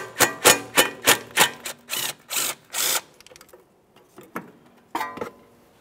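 A 10 mm bolt is worked loose from a bracket on the steering knuckle of a 2003–2007 Honda Accord, with a run of close, sharp ratcheting clicks and bursts, then sparse clicks after a pause.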